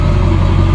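The engine of a 1991 Hurricane boat, freshly readied after winter storage, idles in gear with a loud, steady, close-up rumbling drone throughout.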